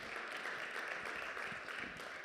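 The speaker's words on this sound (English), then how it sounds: "Give Chris and Becky a round of applause" A congregation applauding during a church service, a soft, steady wash of clapping heard from a distance.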